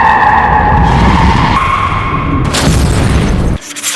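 Car tyres skid loudly in a sustained screech, then a heavy impact as the car hits a pedestrian who crossed on a red light, the noise cutting off abruptly at the end.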